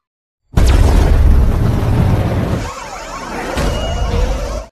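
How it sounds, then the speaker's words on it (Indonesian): An automatic bomb goes off in an Agent 47 film, a loud, close blast that hits suddenly and then rumbles on with lighter debris, ending abruptly. "Lalu Samsul harus mati karena bom otomatis saat ia ambil senjata."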